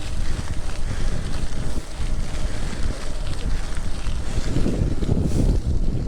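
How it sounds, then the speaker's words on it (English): Steady headwind buffets the microphone during a bicycle ride in the Netherlands with a loud, rumbling roar that continues without a break for the whole stretch. "It's windy."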